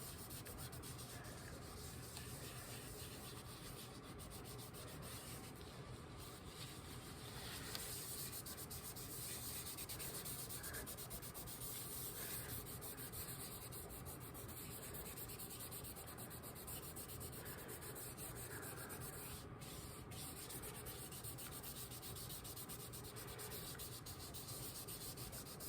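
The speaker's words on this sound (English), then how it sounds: "you can start rubbing out your image with a cloth" A cloth rubs an image off a lithography printing plate with a continuous, faint, close scrubbing and swishing that holds steady throughout, with no voices.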